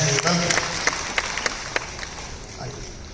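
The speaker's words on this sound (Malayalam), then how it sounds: "നല്ലൊരു കൈയടി കൊടുക്കാം നമുക്ക്" An audience at a live event claps briefly, a light patter that quickly fades into murmuring and crowd noise.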